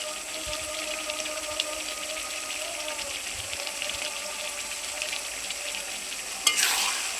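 Beef tripe is stir-fried in a pot, giving a steady sizzle with scraping stirs, and a louder burst of hissing near the end.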